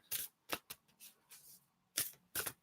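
Moonology oracle card deck being shuffled by hand, several crisp riffling bursts with short pauses between them, close and fairly quiet, no talking.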